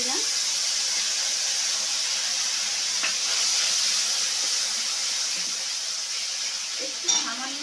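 Ground spice paste sizzles in a pan as a steady, moderate hiss throughout, with faint clinks and a brief louder rattle near the end, under occasional quiet talk.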